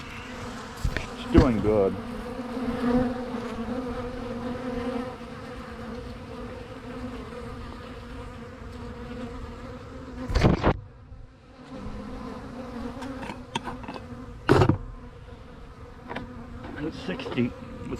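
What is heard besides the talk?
yellow jackets buzzing around a trap jar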